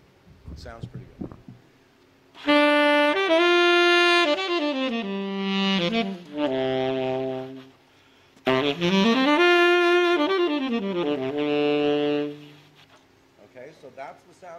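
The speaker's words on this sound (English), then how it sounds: "Okay, so that's the sound of the tenor saxophone." Tenor saxophone playing two sustained melodic phrases with rich harmonics and sliding pitch bends, loud and close, at a fusion music workshop, with a short pause between phrases.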